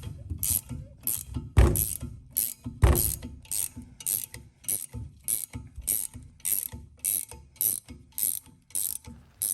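Ratcheting bearing puller tool being tightened so its jaws grip a bearing, a steady series of close, sharp ratchet clicks at a regular pace, a couple of heavier clunks among them, no talk.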